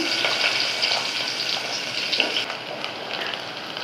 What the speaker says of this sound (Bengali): কুচি করা পেঁয়াজ দিয়ে দিচ্ছি তেলের মধ্যে